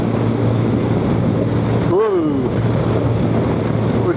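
A BMW R1200GS motorcycle cruises in sixth gear at 60 mph. A steady, close roar of wind buffeting and engine drone runs throughout, with a brief rising-and-falling whine near the middle.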